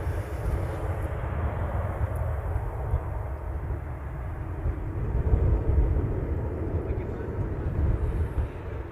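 A Southwest Airlines airliner arriving from Maui at Honolulu airport produces a steady, broad jet engine roar and rumble that swells slightly midway, sustained throughout with no clear talk.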